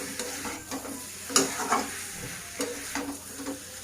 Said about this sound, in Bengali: এবার ভেজে রাখা মশলাটা দিয়ে দেবো, দিয়ে আবার এটাকে আমি একটু নেড়ে ছেড়ে নেব।